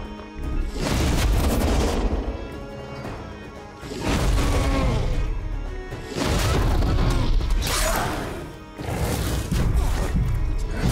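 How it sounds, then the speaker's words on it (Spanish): Explosions rumble through a battle in the strategy video game Songs of Conquest: several loud, booming bursts with a crashing, rolling tail, separated by brief dips, with no talking. "Ah, la explosión."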